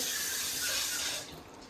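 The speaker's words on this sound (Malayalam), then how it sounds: "കുറച്ച് വെള്ളം കൂടി ഒഴിച്ചു" Water pours into a ragi smoothie mixture of ragi and cold milk, a short close rushing splash that cuts off abruptly near the end, with no voices.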